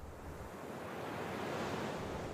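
A continuous, steady wash of sea waves and surf with wind, broadband and fairly faint, used as a sound effect for the parting of the Red Sea.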